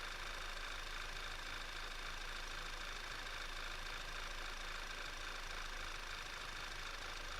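A car engine with a small vacuum leak idles steadily, a constant mechanical hum with faint knocking texture and an even hiss, no talk over it.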